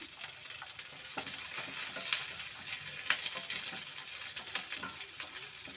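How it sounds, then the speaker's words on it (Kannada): Thick-cut onion pieces, with curry leaves, fry steadily in hot oil for a pepper chicken dish, a dense continuous sizzle with occasional stirring scrapes and sharper crackles, close and fairly loud with no voices. "ಎಣ್ಣೆ ಕಾದಿದೆ. 1 ಬೌಲು ದಪ್ಪದಾಗಿ ಕಟ್ ಮಾಡಿರೋ ಈರುಳ್ಳಿ ಹಾಕ್ಕೊಳ್ಳೋಣ."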